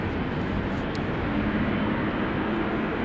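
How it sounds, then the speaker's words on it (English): A KLM Boeing 777-300ER airliner at Amsterdam Schiphol Airport produces a continuous low, heavy engine rumble, dense and fairly loud, holding steady without a break. "This is KLM Flight 597 to Cape Town, South Africa, a 777-300ER."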